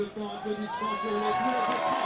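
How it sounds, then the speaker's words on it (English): Spectators at a women's rugby sevens tournament cheer and whoop for the second-place team, a sustained crowd roar with high shouts and children's voices carrying over it. "expect a bit of a raucous applause here"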